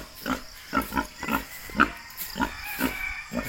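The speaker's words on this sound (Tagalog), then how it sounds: "baboy, barako" A boar grunts on a hillside farm, giving about ten short, rough grunts in an uneven rhythm, close by and moderately loud, with no talking.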